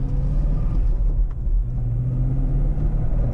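A C6 Corvette's engine rumbles steadily from inside the car with auto blip rev-matching switched on, a low, loud drone with only slight rises in pitch and no clear sharp blips, and no talking.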